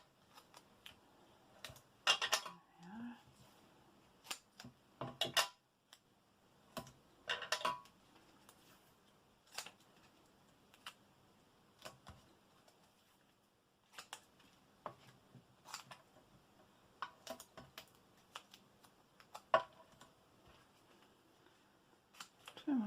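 Scissors snip through dimensional foam for card making in scattered crisp cuts, close and quiet, separated by pauses and light handling sounds.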